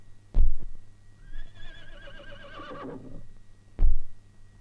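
A horse gives one long, wavering neigh that rises and then trails off, framed by two heavy thuds before and after, with a low hum running underneath.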